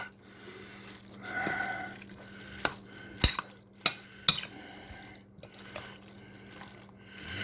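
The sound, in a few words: stirring diced tomatoes and green chilies into a dish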